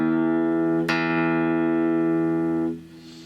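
An Encore acoustic guitar string picked with a pick during tuning, the note struck once and sustaining with rich overtones, then a second pluck near one second rings on until damped near the end.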